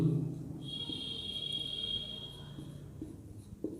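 Pen or marker scratches steadily across a writing surface during a geometry lesson, a continuous close scribbling stroke with a short pause near the end, no talking over it.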